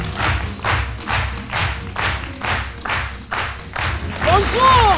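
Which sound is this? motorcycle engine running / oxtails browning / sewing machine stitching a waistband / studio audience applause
studio audience applause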